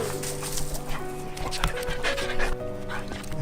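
Stray dog panting close by with a faint whimper, while people talk excitedly over it.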